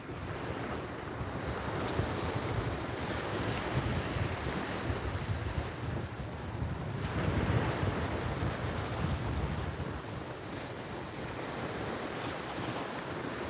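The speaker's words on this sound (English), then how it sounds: "That one wave is almost to the shore now." Ocean surf rolls steadily onto a beach, a continuous broadband wash of breaking waves mixed with wind buffeting the microphone, with a slightly stronger surge midway.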